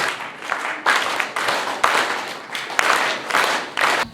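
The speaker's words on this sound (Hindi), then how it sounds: "दीदी को फिर से 3 ताली का मान दे दे" An audience at a yoga camp clapping together in a series of sharp, rhythmic bursts of group claps, loud and close, with short gaps between them.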